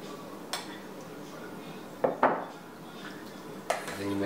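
A spoon mixes pico de gallo and guacamole in a bowl, making a few sharp clinks and scrapes against it amid quiet background.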